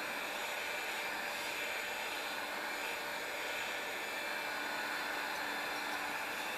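A hot air gun roars steadily as it heats the plastic bumper of a Nissan Micra 3 to soften it, a loud continuous blowing whoosh with no talk.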